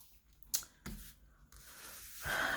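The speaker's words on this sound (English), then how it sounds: "I'm going to shuffle, and then I'm going to see what cards come out" Tarot cards are shuffled by hand in a few quiet, papery riffles and rubs, separated by short pauses, close and soft with no talking.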